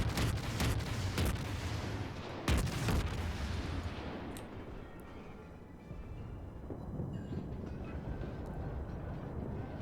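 Heavy naval gunfire from the Krasny Krym cruiser in World of Warships, with several loud booming salvos in the first few seconds, then a rumbling, churning roar of battle and sea noise.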